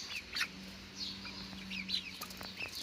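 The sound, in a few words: chickens clucking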